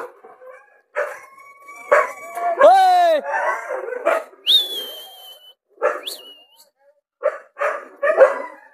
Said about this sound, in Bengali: গাইস কুকুর এসছে